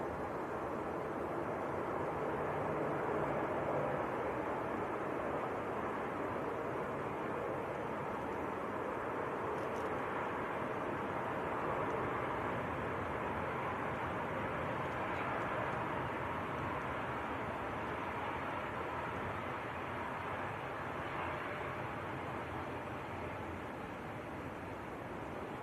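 Aer Lingus ATR turboprop aircraft at Manchester Airport, a steady distant drone blended with windy outdoor rumble, fairly faint and continuous.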